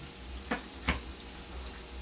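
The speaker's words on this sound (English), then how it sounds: "Saute the seasoning, and then I'm going to pour the saltfish that I have." Seasoning and picked saltfish sauté in a pan over a steady low sizzle, with two brief soft knocks or stirs standing out.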